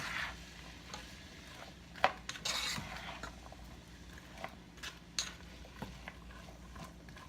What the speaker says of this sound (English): make sure to check and just keep stirring